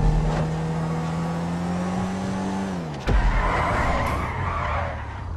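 Race car in GTA 5 holding a steady engine drone, then squealing its tires in a loud skid and pitching down before a bang-like thump, with the engine and tire noise continuing close up afterward.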